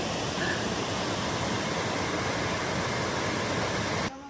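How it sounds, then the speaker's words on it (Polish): Steady broadband rush of a river spilling over a small waterfall in Galicia, Spain, constant and fairly close, with no voices, cutting off abruptly near the end. "Jest rzeka z mini wodospadem."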